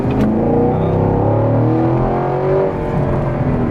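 A 2016 Chevrolet Camaro 2SS engine revs up and accelerates in touring mode, its pitch climbing then easing, heard loud and close from inside the vehicle.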